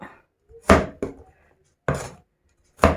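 Several sharp chopping strikes of a knife through vegetables on a board, irregularly spaced, close and fairly loud with pauses between cuts.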